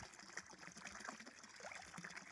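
Small stream trickling and flowing in dense, overgrown brush with bamboo in Sibonga, Cebu; a steady, soft, close wash of running water, fairly quiet and continuous.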